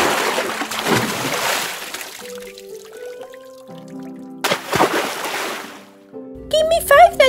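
Water is thrown out of a container in two splashy pours, each a loud rushing gush, separated by quieter moments, with someone speaking near the end.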